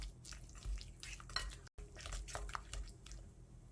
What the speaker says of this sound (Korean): 마늘종과 양념장 함께 버무려 주고요